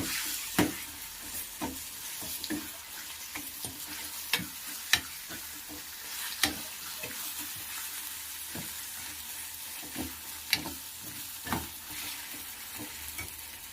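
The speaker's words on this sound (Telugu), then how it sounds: "దీన్ని కూడా మనము ఇలా ఫ్రై చేసుకోవాలి" Brinjal bajji mixture with salt frying in a pan while a spoon stirs it, a steady quiet sizzle broken by repeated scraping clicks at an irregular rhythm, with no voices.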